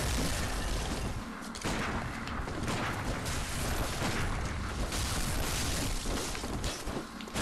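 Gunfire in the game Bloodborne, loud crackling shots and bursts layered over dense combat noise, with repeated sharp blasts throughout and no break in the clamour.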